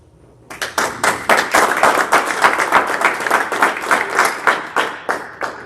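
An audience claps at a city commission meeting, the claps starting abruptly after a moment of quiet and settling into a loud, rhythmic, evenly spaced beat that keeps going to the end.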